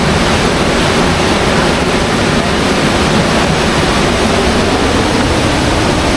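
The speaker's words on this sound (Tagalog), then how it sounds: "Ang lakas ng impact ng tubig" A strong river current rushes past at close range, a loud, steady roar of churning water that fills everything without a break.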